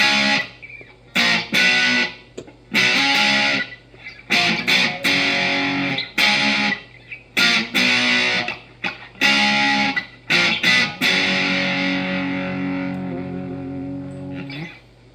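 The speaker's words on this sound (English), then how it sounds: "Here's the distortion. at exactly 12 o'clock." An electric guitar played through a distortion pedal with the drive set at 12 o'clock, loud saturated chords struck in bursts with short gaps and a final long ringing chord that fades out.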